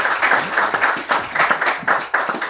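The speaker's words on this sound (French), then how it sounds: "On peut l'applaudir quand même." An audience at a strongman festival in Victoriaville applauds, a short burst of dense, lively clapping from many hands close by.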